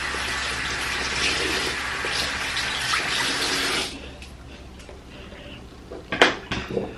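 A utensil used for mixing an Aztec healing clay mask is rinsed under a running tap, a steady loud gush for about four seconds, then quieter trickling with a few sharp clinks of the item against the sink.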